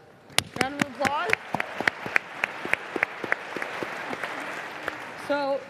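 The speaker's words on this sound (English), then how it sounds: "Round of applause. Round of applause." Scattered audience clapping at a tech talk greets an audience member, sharp individual claps standing out over a softer crowd patter, with brief voices talking between them.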